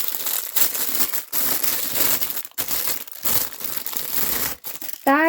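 Plastic foil wrap on a subscription book box crinkles and tears close up in several loud rustling bursts with brief pauses.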